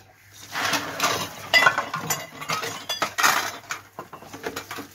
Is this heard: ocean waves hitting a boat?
no